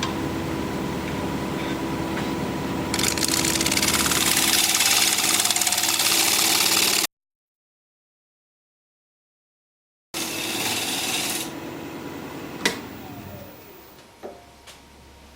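Wood lathe turning an out-of-balance winged bowl at around 1100 rpm, a loud steady whirring drone with rhythmic thumping, cutting out briefly then resuming and winding down with a few sharp knocks near the end.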